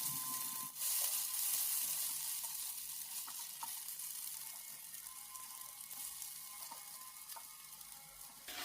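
Egg chow mein stir-fried in a pan, with a steady close sizzle and occasional light scrapes of stirring, running continuously and unaccompanied by voices.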